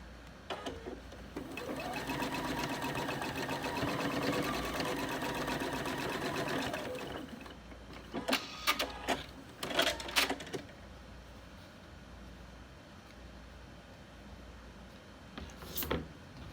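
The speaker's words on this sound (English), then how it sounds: "we're going to take this to the machine, and we're just going to sew it closed right here" A sewing machine runs steadily for about six seconds while stitching a gathered fabric hair scrunchie closed, followed by several sharp clicks and clacks of handling at the machine.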